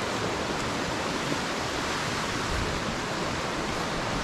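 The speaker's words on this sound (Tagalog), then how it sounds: "Ayan pa rin yung ilog." River rushing through mossy woodland in Devil's Glen Forest, County Wicklow, Ireland, a dense, steady broadband roar of flowing water, close and unbroken throughout.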